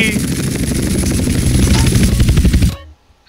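A helicopter in the video game GTA San Andreas makes a steady, loud rotor chop with engine drone that cuts off abruptly near the end.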